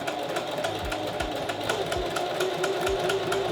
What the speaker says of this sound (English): Now I'm gonna go over to my sewing machine, sew around this edge exactly at 3/8 of an inch seam allowance.